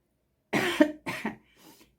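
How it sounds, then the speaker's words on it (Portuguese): A person coughs twice in quick succession, close and fairly loud, followed by a softer, trailing throat-clearing sound. "a gente tosse toda hora, né?"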